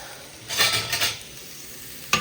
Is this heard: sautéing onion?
yes